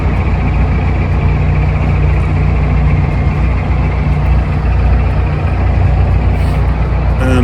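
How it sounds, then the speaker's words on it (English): Steady, dense road traffic crossing a big bridge over the River Trent, a continuous loud rumble and roar of heavy vehicles with no breaks. "All of that traffic heading up to Scotland."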